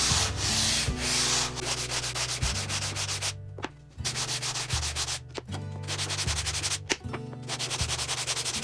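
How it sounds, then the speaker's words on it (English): Wood edges sanded by hand with a sanding block and P240 paper, loud rhythmic rasping strokes back and forth, with short pauses between passes. "we're going to sand the actual edge itself with P100, then P240 on all those long edges by hand"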